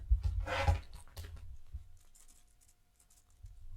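A computer keyboard key pressed during a music-software setup gives a few quick, close clicks near the start, then fades to a quiet room hush with faint scattered taps.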